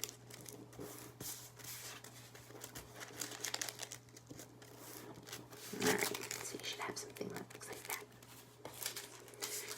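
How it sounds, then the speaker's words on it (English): Sheets of paper are folded into a paper lotus, with soft crinkling and creasing rustles close by, swelling briefly to a louder crumple midway. "So fold long ways, unfold, and then take all of the corner points and fold it up to that center"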